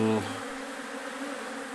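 Honeybees from a large swarm being released near a hive box entrance buzz in a steady, dense hum, opening with a brief louder tonal burst before settling into a continuous drone.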